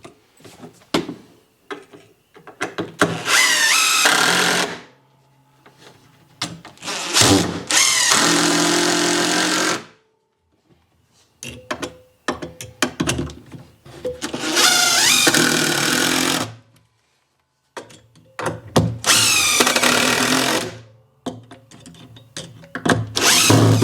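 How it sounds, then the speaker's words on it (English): A power drill drives six screws into a board on a custom three-point carry-all build, loud whirring bursts of a few seconds each separated by quiet pauses, with the motor pitch shifting as each screw seats. "Alright, I'm going to put 2 screws into this board for each of these 3."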